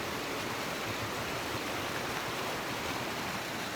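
Warm spring water running over the travertine terraces at Pamukkale, a steady close rushing hiss of flowing water, even and unbroken, with no voices.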